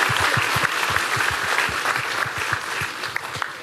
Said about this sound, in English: that's a big round of applause for you guys doing that all on your own